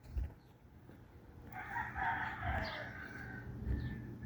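A rooster crows once in a long, drawn-out call, moderately distant, over a quiet outdoor background.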